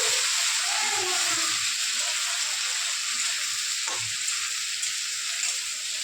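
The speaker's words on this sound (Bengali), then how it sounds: "টমেটোটাকে দিয়েও আরেকটুখানি ভেজে নিচ্ছি।" Chopped tomatoes frying in a pan, a loud, steady, close hiss of sizzling oil that holds unbroken throughout, with faint low scraping underneath and no talk.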